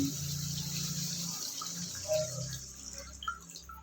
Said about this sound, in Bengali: এবার আমি এর মধ্যে একটু পরিমাণ মতো জল দিয়ে দিচ্ছি